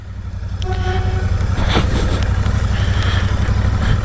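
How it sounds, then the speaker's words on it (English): A loud, deep engine rumble builds steadily as a Royal Enfield Shotgun 650 motorcycle pulls away from low revs, its throbbing exhaust close and continuous. "Pulls away beautifully from very low revs."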